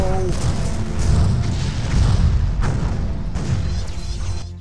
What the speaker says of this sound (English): The ship has been destroyed.